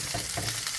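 Lamb cutlets frying in a pan with salt, sticking to the surface, a steady close sizzle with soft crackles and no talking.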